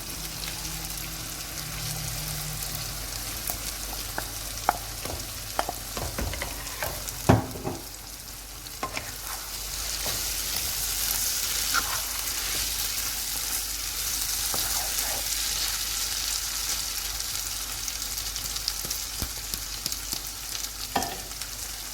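Okra sizzles in a pan of onion masala while being stirred, a steady frying hiss with scattered scraping and clinking of the spoon, with no talk.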